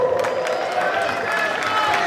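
A crowd at a slalom race in Luzzi applauds the podium winners, steady clapping and cheering that holds an even level throughout, with a voice over a loudspeaker running through it.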